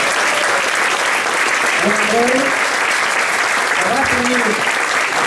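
Audience at an athletics league gala in a cultural hall gives steady sustained applause, with a voice speaking over the clapping.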